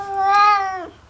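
An agitated cat with its tail puffed out, ready to fight, lets out one loud, drawn-out meow that rises and then falls, close by, with no talking.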